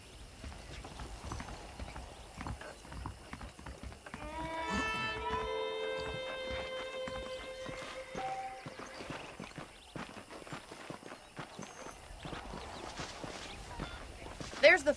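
Horse hooves in Red Dead Redemption clip-clop at a steady walking pace, close and fairly quiet, with a brief whinny partway through and voices talking over the hoofbeats.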